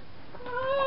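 A single short meow that rises in pitch, close and clear.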